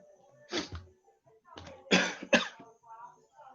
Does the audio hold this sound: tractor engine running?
no